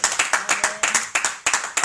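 A church congregation claps in praise during a French-speaking worship service, steady rhythmic handclaps in quick pulses of roughly four per half second, sharp and close.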